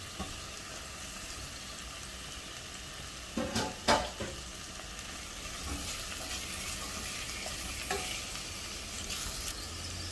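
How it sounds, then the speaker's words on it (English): Turnip, carrot, potato and drumstick being stir-fried in a pan, a soft continuous sizzle with a few clattering stirs near the start and lighter scrapes later, fairly quiet and close, no talking. "we have now stir fried all the vegetables well"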